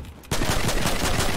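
Rapid automatic gunfire in the video game Fortnite bursts in suddenly after a brief quiet moment, a loud, close, continuous stream of shots.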